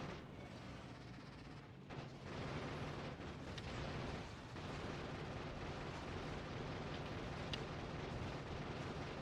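Grenade explosions in Factorio, heavy booming blasts merging into a continuous rolling rumble with a few sharper pops on top, loud and sustained throughout, no voices.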